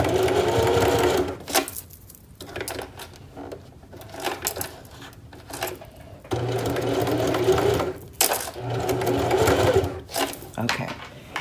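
A sewing machine stitches through a quilted jacket in several bursts of close, steady mechanical whirring, separated by short pauses, with someone talking softly between runs.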